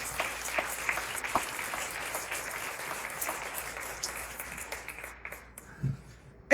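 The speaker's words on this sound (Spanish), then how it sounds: "Denle un fuerte aplauso a él." Moderately faint audience applause during a religious talk, a steady patter of many hands with scattered sharper claps that thins out toward the end.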